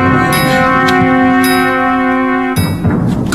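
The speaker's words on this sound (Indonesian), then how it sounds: "Gong!" A gong struck once in a royal court scene, ringing out loud with a long sustained metallic shimmer of steady tones that holds for about two and a half seconds before fading into room noise.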